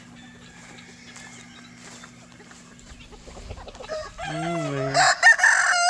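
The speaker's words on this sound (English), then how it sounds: "Here, chickens." Chickens, quail and bobwhites in a predator-proof backyard bird enclosure; soft clucking and a distant low hum give way to a loud rooster crow near the end, with a brief spoken word mixed in.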